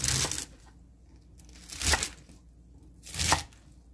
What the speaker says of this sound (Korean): 한 2cm 크기로 이렇게 잘라주세요.